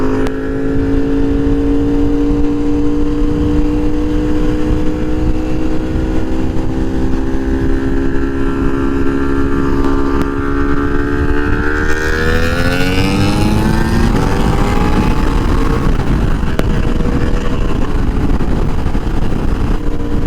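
A 2024 KTM 1390 Super Duke R EVO motorcycle racing at speed, its engine droning steadily, then climbing sharply in pitch as it accelerates hard, loud and close with strong wind rush.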